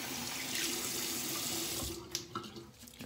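A tap runs steadily into a sink while soap is rinsed off hands, a close, full rush of water that breaks into splashes and drips near the end.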